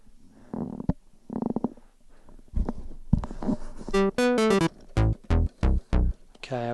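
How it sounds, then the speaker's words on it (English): A basic synth bass patch in Logic plays a run of short, punchy notes and a few longer held tones, starting softly before louder plucked notes arrive in a steady rhythm, with no other sounds. "So what I've got here is I've got a basic bass patch."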